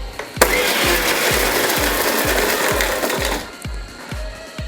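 A mixer blender pulsing egg to make homemade mayonnaise, a loud whirring motor burst with quick rhythmic beats, then cutting down to a softer spin-down.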